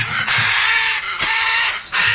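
Blue and gold macaws squawk loudly and continuously in a raucous chorus ahead of feeding, harsh calls overlapping with brief dips and swells.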